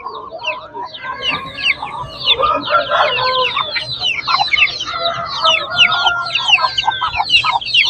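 Rooster and hens at a poultry market, a dense chorus of clucking and squawking with crowing calls layered on top, busy and continuous at close range.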